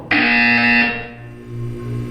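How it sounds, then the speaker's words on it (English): A loud electronic buzzer from the Portal 2 video game sounds once, a sharp steady tone that stops abruptly after almost a second and leaves a low hum behind. "When you hear the buzzer, look down at the floor."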